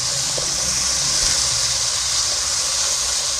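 Two ground tomatoes hit hot browned masala in a pan for kaleji masala, giving a loud, steady sizzling hiss that stays close and continuous throughout.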